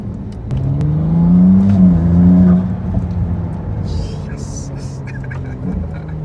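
A Ferrari 296 GTB V6 revs up close, climbing to a loud rising whine and then dropping back to a lower growl, with voices talking in the car.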